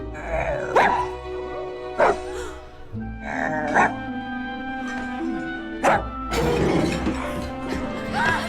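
Dog barking in the fantasy film Nightbitch, about half a dozen sharp, loud barks spaced a second or two apart, set against music and other film sound.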